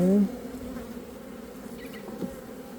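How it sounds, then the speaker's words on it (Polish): Nervous honey bees at a swarming-state hive drone in a steady, close buzz, with one louder bee passing near at the very start, then an even hum throughout. "No ale tu są nerwowe te pszczoły trochę"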